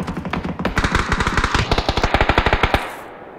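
Automatic gunfire in the battle royale game PUBG: a long, rapid, evenly spaced burst of loud, close shots that cuts off near the end.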